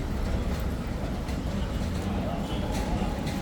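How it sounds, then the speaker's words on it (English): A tram passing along a busy street in Istanbul, making a steady, close rolling rumble with faint clacks, while voices and street noise carry on around it. "Oh, here comes a tram."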